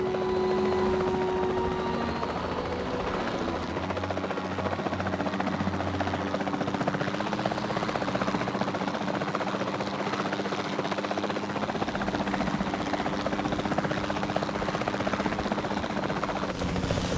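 Helicopter in the Jurassic World Evolution 2 video game, a steady loud rotor drone with engine hum running throughout, carrying on alone without voices.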